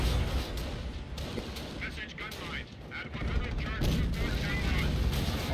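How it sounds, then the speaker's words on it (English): Artillery and cannon fire from the Company of Heroes war game: repeated booming blasts and rattling gunfire with rumbling battle noise, while a voice talks over them. "Tank engines rumble across open plains, artillery shells rain from above, and cannon fire slams into armor with a heavy thud"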